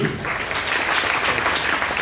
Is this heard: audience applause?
yes